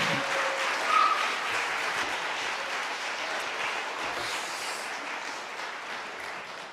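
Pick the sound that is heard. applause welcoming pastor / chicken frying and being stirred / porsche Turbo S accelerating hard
applause welcoming pastor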